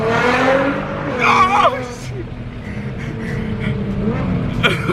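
A Nissan GTR sports car drives hard, with engine roar and tire squeal heard from inside the cabin, loud and continuous under excited talk and a sudden exclamation.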